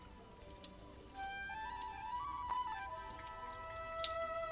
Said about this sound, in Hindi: ऊपर से मैं नलका छोड़ूंगी और ये पिएगी